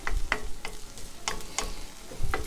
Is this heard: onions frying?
yes